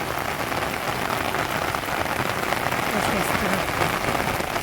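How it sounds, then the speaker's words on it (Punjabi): Heavy rain pours down steadily and loudly, a dense continuous hiss of drops hitting surfaces, with a voice faintly under it. "ਮੀਂਹ ਕਿੰਨਾ ਪੈਂਦਾ ਦੇਖੋ"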